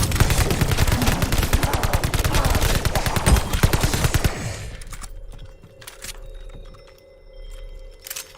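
Rapid automatic gunfire from Call of Duty Vanguard bursts loudly for about four seconds, then cuts to a quieter low rumble with faint scattered clicks.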